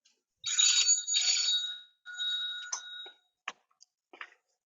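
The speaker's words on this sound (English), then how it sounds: "let me silence my phone" A mobile phone rings indoors with a bright, electronic warbling ringtone in two or three bursts. A few quiet clicks and taps follow as the phone is silenced.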